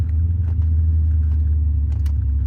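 A 1998 Aston Martin V8 Coupe with a 5.3 liter four-valve V8 and 4-speed automatic runs with a steady, deep low rumble, close and even, with no talk over it.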